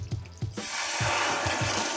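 Half a cup of vanilla whiskey poured slowly into a boiling pot for bread pudding, a steady hissing, bubbling pour up close with a few soft thumps and pops beneath it.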